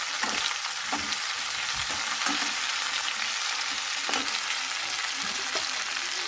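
Pumpkin fries in a pan with a steady close sizzle, broken by several soft scraping stirs of a spatula spread across the clip.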